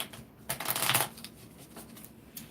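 Tarot cards shuffled by hand during a reading, a brief burst of riffling and slapping card noise near the mic, then softer intermittent rustles.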